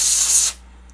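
A short, loud blast of compressed air hisses onto a circuit board for about half a second, then cuts off abruptly to near silence.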